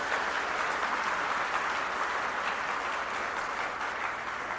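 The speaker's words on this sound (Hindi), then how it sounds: "एक बार जोरदार तालियां बजा के हमारी टीम का हौसला बढ़ा दीजिए।" Loud, dense crowd applause at a political election rally in Kurukshetra, a steady unbroken wash of clapping from a large outdoor audience that holds at full strength throughout.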